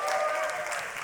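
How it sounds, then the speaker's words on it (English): A live audience at a YMCA World Council panel session claps and cheers in a brief, steady burst of applause heard from the room. "Can I get a cheer because it's actually working?"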